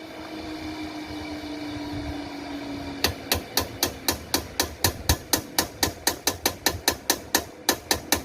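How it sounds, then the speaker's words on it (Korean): A hammer taps the cover of a long-neglected pressure washer motor with a seized screw: a low hum gives way to around twenty sharp, evenly spaced metallic knocks in a steady rhythm. "여기를 약간 망치로 충격을 주어서 유림을 해야 됩니다"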